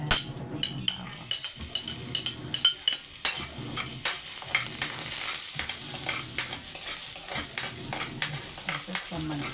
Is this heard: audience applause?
no